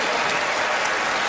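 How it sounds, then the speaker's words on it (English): Studio audience applause on a TV magic show stage, a dense, loud, continuous wash of many hands clapping close by, with no voices cutting through. "Let's give them a big round of applause"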